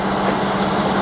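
Cosen AH-250H fully automatic hinge-type bandsaw cutting material, a steady loud whirring machine drone with a constant tone, heard close and alone for about a second.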